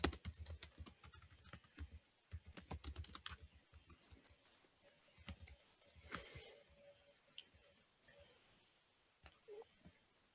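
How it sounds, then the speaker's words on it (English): Quiet typing on a computer keyboard: bursts of rapid key clicks in uneven runs with short pauses, then sparse isolated taps toward the end, close and faint, with no talking. "typing a note there"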